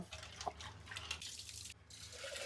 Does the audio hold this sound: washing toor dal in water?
yes